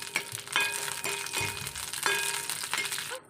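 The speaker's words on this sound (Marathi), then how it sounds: "त्यावर आता आपण ह्या जे हिरव्या मिरच्या आहेत त्या थोड्याशा परतून घ्यायच्या आहेत" Green chillies frying in hot oil on a tawa, a close sizzle with repeated scraping and clinking of a utensil stirring them in a loose rhythm, then a sudden stop at the end.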